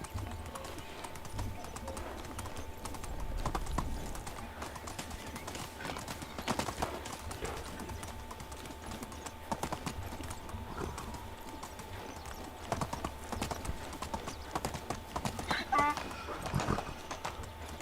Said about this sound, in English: I have no idea how we didn't just get knocked off of Donkey running into that tree